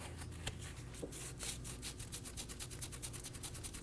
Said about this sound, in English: I'm going to take a clean rag and wipe it all down.